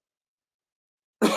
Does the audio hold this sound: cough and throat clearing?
yes